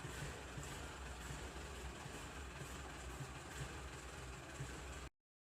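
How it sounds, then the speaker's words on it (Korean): A diesel engine with a faulty EGR poppet valve runs at a rough idle below normal speed, a steady low rumble with uneven shaking pulses, close and continuous until it stops abruptly near the end. "공회전 속도보다 낮고 심한 엔진 떨림이 발생합니다"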